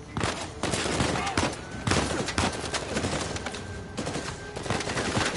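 Rapid gunfire crackles through a firefight in the action game Uncharted 4, with dense overlapping bursts of shots and impacts continuing throughout at close range.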